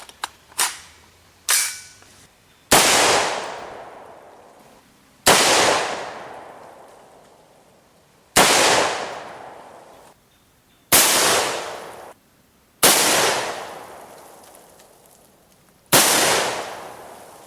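Rifle shots from standard .223 / 5.56 ammunition crack out one at a time at a few seconds' spacing, each a sharp loud report with a ringing decay, after a few smaller pops at the start.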